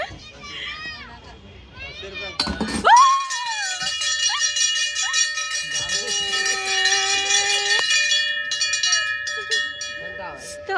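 A bell ringing at a carnival game, with sustained metallic tones that hold for several seconds amid the chatter of children and adults talking nearby.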